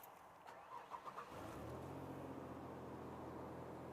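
A 1999 Ford Ranger engine cranks briefly with a few uneven turns, then catches and settles into a steady idle, recorded close and fairly quiet.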